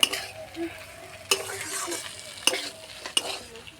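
Vegetable Maggi noodles being stirred in a pan, with soft frying sizzle underneath and several sharp utensil scrapes and clinks against the metal spread across a few seconds.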